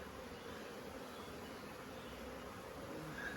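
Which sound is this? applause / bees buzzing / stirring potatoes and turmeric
bees buzzing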